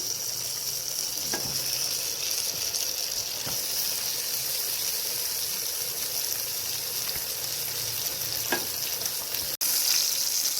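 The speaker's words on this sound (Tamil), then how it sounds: "எண்ணெய் காஞ்சிட்டு இந்த சிக்கனை நம்ம போடலாம்." Chicken frying in hot oil in a pan for Arabian maqluba biryani, making a continuous, even sizzle with a few faint clicks, close and fairly loud, with no one talking.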